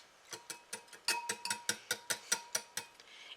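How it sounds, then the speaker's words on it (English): A whisk beats pancake batter ingredients in a bowl, making a steady run of quick, light clinks about five per second. The clinks are fairly faint and close, with no talk. "And now I will whisk these together."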